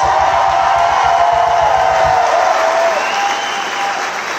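A crowd applauds and cheers loudly for the FDNY pipe band drummer at an outdoor pipe band show at Loon Mountain, with a drum beat fading out under the clapping in the first half.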